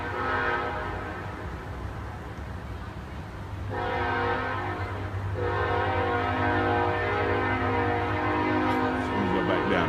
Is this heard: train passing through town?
yes